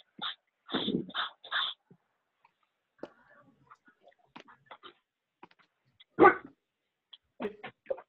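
A dog barks in short bursts inside a house, with a few sharp barks and yips spaced over several seconds, followed by quieter clicks and a loud single bark, mid-distance and alone.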